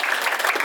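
A panel discussion audience applauds in a brief, steady wash of clapping, loud and close, with no voices over it.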